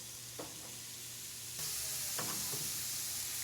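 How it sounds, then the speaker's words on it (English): Lamb chops hit a medium-high grill, and a quiet steady sizzle swells suddenly and then holds as a soft continuous hiss. "So now we're going to put them on the grill."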